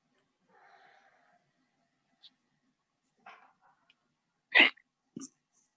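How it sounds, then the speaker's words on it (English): A few sharp, isolated hiccups from a person, the loudest one near the end, separated by quiet gaps alongside a faint murmur. "Oh, I got hiccups for some odd reason."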